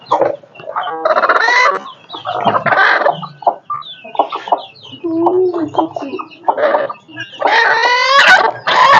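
Native Siruvidai chickens cluck and squawk up close in loud, irregular bursts, with quieter gaps and brief talk in between.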